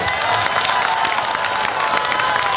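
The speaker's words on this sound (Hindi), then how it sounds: "तालियां बजा दें आप।" An audience at a mushaira poetry recital claps and cheers, a loud, dense burst of applause with shouts mixed in, sustained and close throughout.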